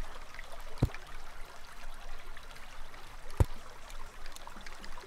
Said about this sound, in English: It's literally getting flooded with water.